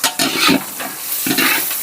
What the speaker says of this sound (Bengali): সবজিটা আমাদের ভাজা হয়ে গেছে এখন এর মধ্যে দিয়ে দেবো চাউমিন চাউমিনটা দিয়ে ভালো করে নেড়ে চেড়ে ভেজে নেবো